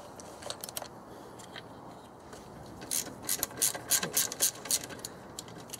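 A ratchet wrench works a bolt loose on a 1999 Subaru Forester with an EJ25 engine, bursts of rapid close clicking that grow louder and denser toward the end.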